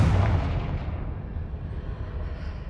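A Confringo blasting spell explodes in the Hogwarts Legacy video game with a heavy boom up front and a rumbling tail that slowly decays over a few seconds, alone and unaccompanied by talk.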